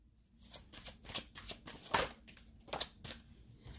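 Tarot cards are shuffled by hand in a quick series of soft riffling, flicking bursts, close and fairly quiet, with no talking.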